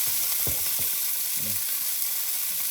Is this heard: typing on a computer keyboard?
no